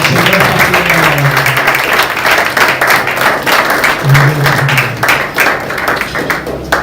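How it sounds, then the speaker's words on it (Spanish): A church congregation applauds together during a service, a dense, steady wash of many hands clapping over several seconds, with a voice and low tones sounding underneath. "Denle un aplauso al Señor."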